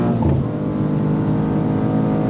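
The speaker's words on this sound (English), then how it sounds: "Oh, hear that gear change." A 2023 BMW M2 (G87) engine droning at speed on a track's main straight, with a quick shift in pitch near the start as a gear changes, then a steady hum.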